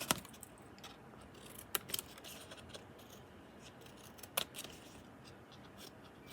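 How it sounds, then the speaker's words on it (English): Scissors cut through a cardboard box lid with a few sharp, quiet snips spaced over a soft background hush. "And you're going to cut your lid exactly the same way."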